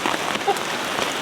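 Heavy rain pours down on a wet camp during a hike with a dog, a dense continuous patter of drops hitting nearby surfaces, steady and close for the whole moment.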